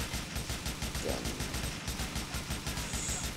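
Rapid, continuous sniper rifle gunfire in Grand Theft Auto IV, dense and loud, with rumbling low booms underneath and no pauses.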